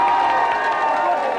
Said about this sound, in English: Let's have a big commiserating cheer for them.